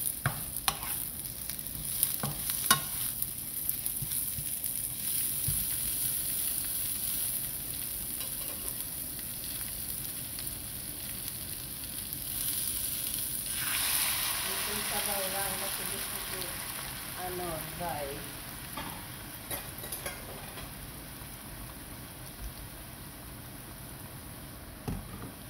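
Onion sizzles in a pan at home, a soft steady frying hiss with a few clinks near the start, fairly faint and mostly without talk.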